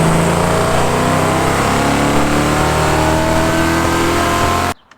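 A 1971 Chevrolet Chevelle V8 roars loudly and steadily at high revs on a dyno, a continuous heavy engine drone that cuts off abruptly at the end.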